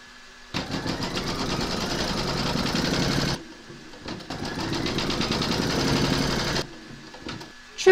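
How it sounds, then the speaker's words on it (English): Sewing machine stitching a quilt block, two long bursts of fast rhythmic needle chatter separated by a short pause, close and moderately loud with no voices. "We're now going to stitch round number 6."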